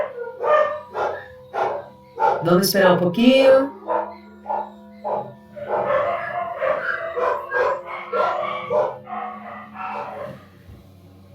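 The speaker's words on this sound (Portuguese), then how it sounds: "E a cachorrada latindo." A pack of dogs barking repeatedly in the background, irregular yips and barks with a howl, while someone speaks Portuguese over them.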